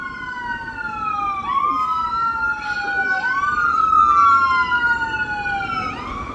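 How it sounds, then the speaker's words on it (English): Several wailing sirens sweep up and down together, loud and near, as emergency vehicles including an ambulance pass along a road with traffic rumbling underneath. "I think that one's an ambulance."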